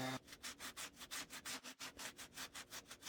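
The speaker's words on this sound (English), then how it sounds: "A little more sanding here just to make sure." Rhythmic back-and-forth rasping of sandpaper on wood, close and steady, about six strokes per second with no voices.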